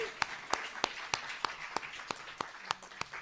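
Applause from an audience at a Hariyali Teej festival poetry gathering: a steady run of sharp, evenly spaced claps, about three per second, quite close and fairly quiet, with no talking over them.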